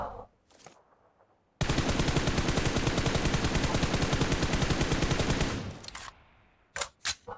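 Sustained automatic gunfire in PUBG Mobile from a standing shooter, a loud rapid burst of about four seconds with a few brief clicks and shots before and after.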